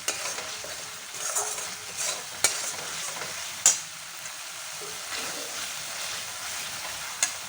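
Jackfruit kofta curry paste being stirred in a frying pan, a soft steady sizzle with scraping spatula strokes and a few sharp clinks against the pan, no talking.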